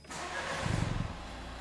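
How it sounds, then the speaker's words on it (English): A Renault car's engine cranks and starts, turning over briefly and then settling into a steady, fairly quiet idle close by with no voices. "Start the engine"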